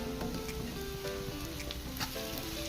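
Boiled beef added to a hot pan with onion, garam masala and turmeric for a coconut-piece beef roast; a dense, continuous, close sizzle crackles steadily throughout with no talking.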